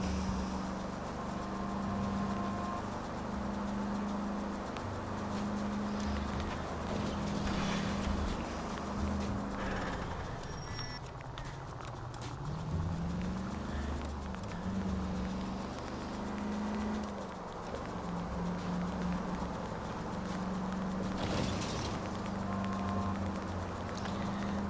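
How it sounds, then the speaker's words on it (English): A car drives on a flat tire in LA Noire, with a steady rhythmic thumping, almost like hoofbeats, over a low engine drone that continues unbroken throughout. "The way the game sounds, I think I have a flat tire."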